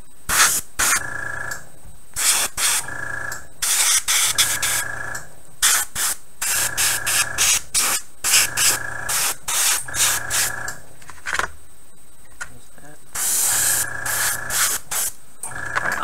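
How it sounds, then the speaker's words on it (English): An airbrush sprays paint onto tabletop wargame diorama bases in short repeated hissing bursts separated by brief pauses, close and fairly loud, with no talk. "Just your basic airbrushing stuff."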